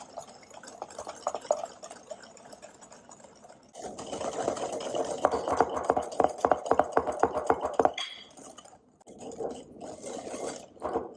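Egg yolks and sugar are whisked together in a bowl for crème anglaise, a whisk clicking and scraping in a quick, steady rhythm that grows louder and denser in the middle before easing off, with no talk over it.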